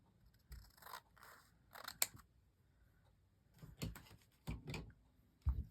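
Scissors work through paper on a crafting table: several separate snips and crisp crunching cuts come in short bursts, up close, with quiet pauses between them.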